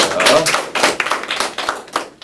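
A small group at a student debate applauds, with a quick, uneven patter of claps that fades toward the end.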